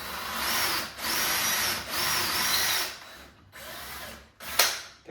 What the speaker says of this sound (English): The best way I find to do the mod is drill halfway from the top and halfway from the bottom and meet in the middle.